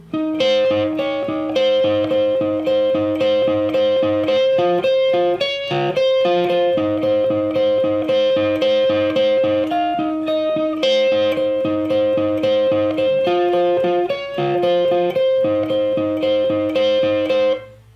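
A distorted electric guitar plays a steady, repeating riff with notes jumping between high and low strings, loud and continuous throughout, no voices.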